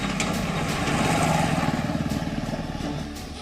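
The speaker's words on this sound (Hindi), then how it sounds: "फर्राटा भरने वाली बाइक किस लोच के साथ बल खाती हुई चल रही है" A motorcycle rides over a potholed street in Lucknow, its engine droning steadily close by, with a rhythmic pulsing as it weaves through the holes before fading slightly toward the end.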